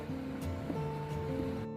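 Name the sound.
electric water pump motor running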